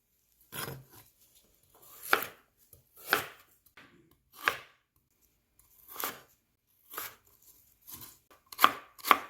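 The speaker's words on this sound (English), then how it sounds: "Then you want to dice 1 carrot." A knife dicing a carrot on a cutting board, with about eight distinct crunchy chops spaced roughly a second apart, close-up and alone with no talking.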